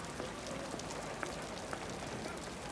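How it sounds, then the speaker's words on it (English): Rain falls steadily on a street outside a shop doorway, a faint, even patter with scattered louder drops and no voices. "I didn't expect rain."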